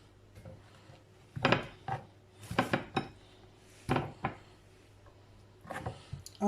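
Cut detox-tea ingredients, including lime, drop into a cooking pot in a handful of sharp clanking knocks and scrapes, close and fairly quiet, with pauses between them.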